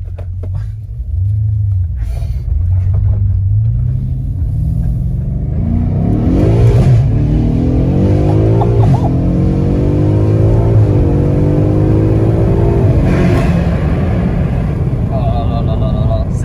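A BMW M5 tuned to roughly 850–900 hp with a Remus exhaust accelerates hard, its deep engine rumble climbing into a loud, rising rev over several seconds, with voices talking in the background.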